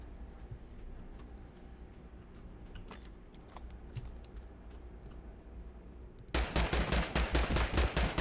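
Video game gunfire: a quiet stretch with faint scattered shots, then a loud rapid burst of automatic fire near the end.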